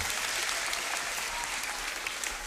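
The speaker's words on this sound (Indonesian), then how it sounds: "Tepuk tangan." Audience at a Maulid Nabi religious gathering breaking into dense, steady clapping, a broad wash of applause from many hands without pause for the whole moment.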